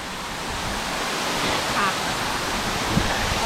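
Cachoeira do Santuário waterfall near Coromandel, Minas Gerais, pours in a continuous, dense roar of rushing water that stays steady and close throughout.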